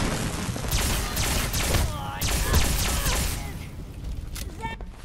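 Pulse grenade exploding in the Fallout 4 mod Predators The Concrete Jungle, a loud crackling burst with thuds, mechanical clatter and electric-sounding whines, with speech mixed in.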